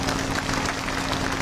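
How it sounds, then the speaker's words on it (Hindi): An audience claps to welcome BJP party officials at a political rally in Uttar Pradesh, a dense, steady burst of many hands applauding together, loud and close. "एक बार ताली बजाकर स्वागत कर दीजिए लोगों का"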